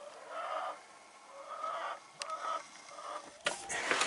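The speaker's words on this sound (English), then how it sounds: "hanging out with the broody chicken behind her" A broody hen clucks in a farm coop, with repeated low, drawn-out clucks in a steady rhythm, close and clear, and a brief sharper squawk near the end.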